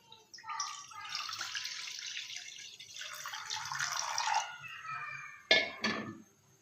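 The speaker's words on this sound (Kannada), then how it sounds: "ಇವಾಗ ನೀರು ಹಾಕ್ಕೊಳ್ಳೋಣ" Water poured from a tap into a cooking pot for boiling pasta, a couple of splashy gushing pours followed by short sharp clatters and drips, fairly close.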